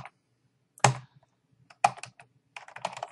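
Typing on a computer keyboard while coding an if-then check, heard as a few sharp clustered keystroke bursts with short pauses, close and fairly clear, no talking.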